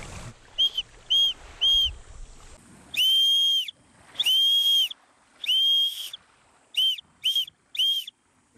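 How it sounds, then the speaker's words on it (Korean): A handmade whistle on a small Korean island sounds an SOS: three short shrill blasts, three long ones, then three short again. The piercing tones are close and loud outdoors, with no talking. "비상시 신호 소음을 낼 수 있는 호루라기를 만들 겁니다"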